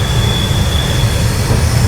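An Adria InterCity passenger train rolls along the rails, heard from inside a carriage as a steady loud rumble with a thin high wheel squeal running throughout.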